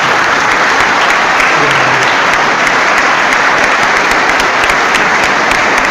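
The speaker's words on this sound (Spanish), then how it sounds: "Recibamos al hermano con un fuerte aplauso" Loud, dense audience applause at a gathering of Christians, a thick sustained wall of clapping from a large crowd lasting the whole stretch, close and unbroken by talk.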